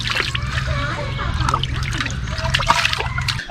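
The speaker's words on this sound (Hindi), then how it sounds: "अरे भाई साहब पानी चला गया मेरा, कहाँ गिर गया?" Water spilling and trickling outdoors at a jungle campsite near a camper van in Jim Corbett, a continuous splashing dribble under a steady low hum, with people talking.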